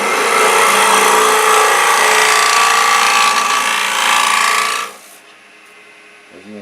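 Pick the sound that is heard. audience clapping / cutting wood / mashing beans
cutting wood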